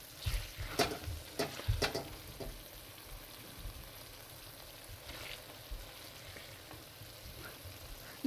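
Lamb curry with melted tomato frying and being stirred in a pan, giving a soft continuous sizzle broken by scraping, clattering stirs that come thickest at the start, with no talking.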